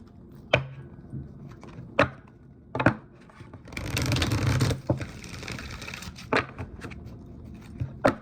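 Oracle cards being handled and shuffled, sharp separate card snaps spaced a second or so apart around a longer riffling burst in the middle, close and fairly clear with no talk.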